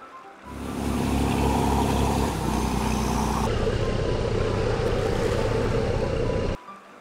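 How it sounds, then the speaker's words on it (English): Cartoon battleship at sea: a loud, continuous engine rumble mixed with rushing waves and water wash, with its tone shifting partway through before cutting off abruptly near the end. "Battleship."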